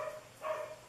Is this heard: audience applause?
no